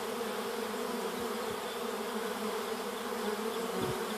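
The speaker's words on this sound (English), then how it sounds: "Got one or two swarms starting there" A honeybee swarm gathering in tree branches and leaves outdoors in Oxford, Wisconsin, giving off a steady, dense buzzing that holds throughout, with a few brief low bumps near the microphone and no voices.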